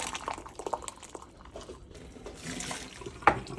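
ProBoil boiling water tap dispensing into a cup in a kitchen, a soft hissing pour with splashy bursts that swell toward the end, fairly close and without talk.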